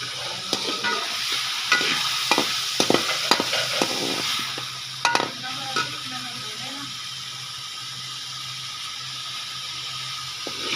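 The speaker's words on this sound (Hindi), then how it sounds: "थोड़ी थोड़ी सब्जियाँ सारी मैं फ्राई कर रही हूँ।" Vegetables fry in a pan for a homemade Punjabi-style macaroni, with a steady sizzle broken by sharp scraping strokes of stirring in the first half, then continuous hissing alone.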